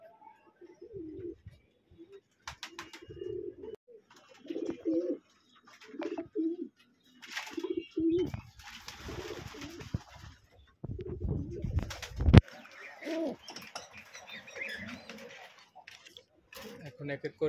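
Pigeons in a loft coo intermittently in low, soft bursts, close by, mixed with handling noises and someone talking over them.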